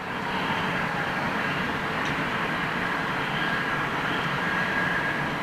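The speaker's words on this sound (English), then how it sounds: "Dreamliner just come in." A Boeing Dreamliner aircraft at Heathrow, a steady, loud jet roar with broad rushing noise and faint whining tones, sustained throughout without talk.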